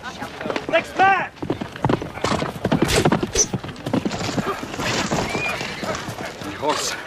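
Horse hooves clip-clop and horses neigh in a battle scene, with sharp whinnies standing out over a busy mix of shouting voices, hoofbeats and commotion.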